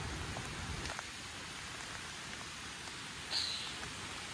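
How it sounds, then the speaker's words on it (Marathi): Steady patter of rain falling, soft and even, with a brief higher-pitched chirp near the end. "पाऊस पडतोय बघा"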